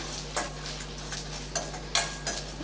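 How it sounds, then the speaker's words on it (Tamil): Red chillies and curry leaves are dry roasted in a pan without oil, with faint, intermittent scraping and rattling strokes of stirring over a low background hum. "எண்ணெயெல்லாம் சேர்க்காமல் அப்படியே ட்ரையாகவே நம்ம வறுத்து எடுத்துக்கலாம்"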